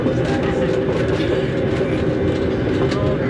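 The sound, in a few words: train pulling up on gold dredge tour railway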